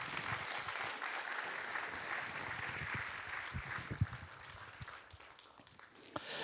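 An audience at the 3rd Suncheon Eco Forum applauds to welcome a pastor as he takes the stage. The clapping is sustained and fairly distant, a dense patter with a few sharper claps standing out near the end.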